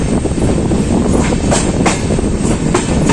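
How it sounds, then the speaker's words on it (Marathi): Konkan Kanya Express running between Madgaon and Mumbai CSMT, recorded from inside a 2-tier AC coach: a loud, close, continuous rumble with rhythmic clickety-clack wheel beats over the rail joints, no voices. "तर आता ट्रेन निघाली इथून 2 मिनिटात."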